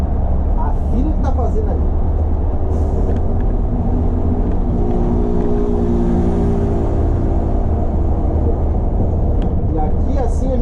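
A vehicle engine pulls steadily in fifth gear, a continuous low drone of road and motor noise that rises slightly through the middle, running under someone speaking throughout.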